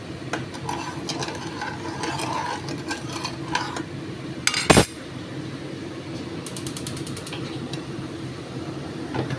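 Pineapple with sugar and water being stirred into a syrup in a pan: a spoon scrapes and clinks against the pan in steady strokes, with one sharper metallic knock partway through and no speech.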